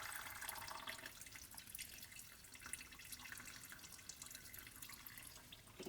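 Diesel fuel drains from a 3.0 Duramax fuel filter in a quiet, faint trickle and drip that runs steadily for several seconds.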